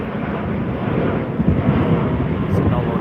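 SmartLinks Australia aircraft landing in from Roma in outback Queensland, a loud low rumbling roar with wind buffeting on the microphone, steady and close throughout.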